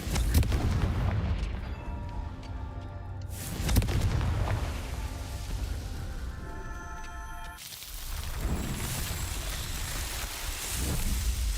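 Confringo blasting-spell explosions in Hogwarts Legacy, two heavy booming blasts several seconds apart with crackling, rumbling debris trailing off between them, loud and close, no talking.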